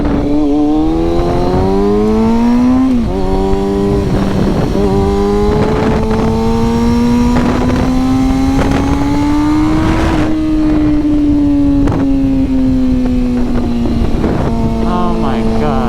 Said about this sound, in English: this exhaust sounds insane